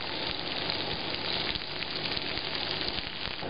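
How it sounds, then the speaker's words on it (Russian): Steady, soft sizzling and crackling of butter frying in a pan over low heat, continuous throughout with no talking. "Сейчас у меня сковородка стоит на огне, на медленном. И я буду добавлять сливочное масло и на нем готовить."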